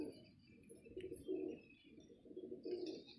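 Desi and Punjabi flying pigeons kept for sale coo softly in repeated low bursts, with faint chirps above, fairly quiet and close.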